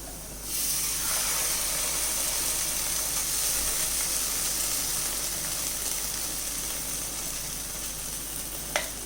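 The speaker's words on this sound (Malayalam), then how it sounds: "ഈ അരപ്പിനെ നല്ലതുപോലെ നമുക്ക് വഴറ്റിയെടുക്കണം" Ground masala paste sautés with onions in a pan for butter paneer masala, giving an even, continuous sizzle with soft stirring scrapes throughout and one small clink near the end.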